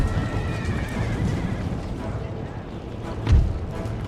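A cavalry horse neighs in a Total War: Empire battle with Russian forces, a short whinny over a dense battle din with a sharp low thump near the end.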